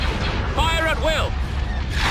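Space battle in the Star Wars: Empire at War game, with weapons fire booming and zapping under a steady rumble while a clipped radio voice speaks over the action.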